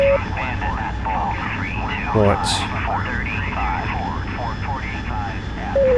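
A fighter jet's engine in the DCS World flight simulator runs with a steady, continuous roar throughout, while someone talks over it and a brief radio blip cuts in.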